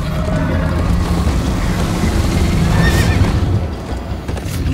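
A horse in Minecraft Story Mode gallops hard under dense game noise and music, with neighing rising near the middle; hoofbeats blur into a loud, continuous rumble, no talking.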